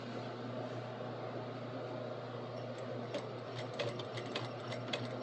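A sewing machine hums steadily while top stitching an apron, with a constant motor drone and faint rapid needle ticking. It is close, moderately quiet and heard alone without talk.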